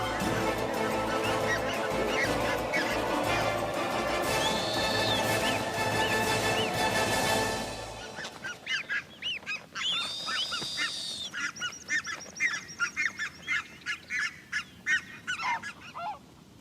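Geese honk loudly while chasing snowy owls on the Arctic tundra, many harsh calls over wind noise at first, then repeated distinct honks from a flock in quieter air.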